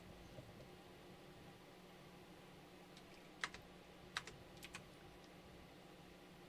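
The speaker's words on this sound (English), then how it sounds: "I'm typing the wrong code" A few scattered keystrokes tap on a computer keyboard, faint and close, with brief clusters of clicks over a quiet hum during a game stream.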